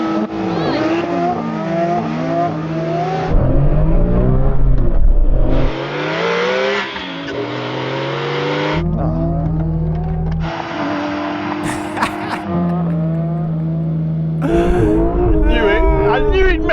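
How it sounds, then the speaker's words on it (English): Several Porsche 911 GT3 RS cars, 996, 997, 991 and 992 generations, rev and accelerate in bursts while warming their tyres, loud engine notes rising and falling with brief tire squeal, a voice talking over the noise. "So Joe, if you want to warm up your tyres, and Yanni, if you need to, get and do some warming"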